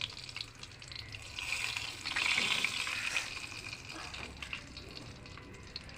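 Shrimp fry in a pan for a pointed gourd and shrimp dish, with a close, steady sizzle that swells briefly in the middle, heard alone without speech.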